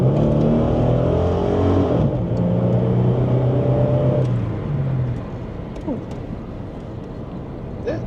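A Holden VS Commodore engine drones steadily while driving, its pitch shifting as the car changes speed, then settling into a lower road rumble with faint voices inside the cabin.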